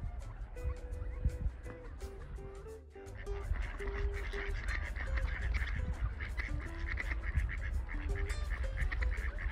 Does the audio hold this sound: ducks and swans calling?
yes